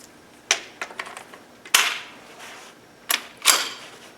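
Magazine removed from a Ruger 10/22 rifle, with a handful of sharp metallic clicks and snaps close up, two louder clacks standing out among smaller handling clicks, no talking.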